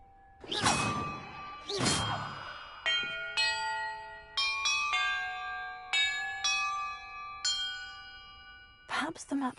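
Bells rung in the video game Hogwarts Legacy at an encampment: a few whooshing swings, then a sequence of clear ringing bell tones struck one after another at a steady pace, each decaying and overlapping.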